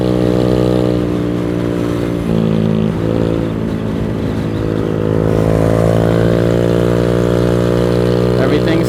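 Venom X18 motorcycle engine droning steadily close up, its pitch climbing and holding as the bike pulls toward top speed with welded mounts, a continuous loud whine with wind rush throughout.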